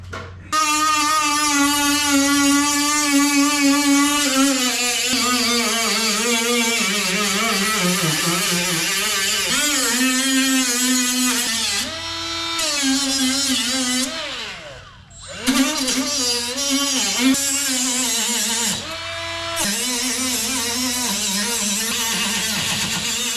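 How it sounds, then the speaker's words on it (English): A battery-powered grinder grinds down welds on a crashed Porsche Boxster's rocker panel: a loud, continuous whine that wavers in pitch as it bears on the metal, with two short dips midway. "A lot of grinding because I suck at welding."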